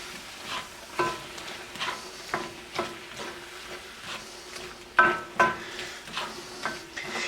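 Shrimp pad thai noodles being stirred in a hot pan, with repeated scraping and clacking strokes of a utensil over a soft, quiet sizzle, the strokes coming at irregular intervals.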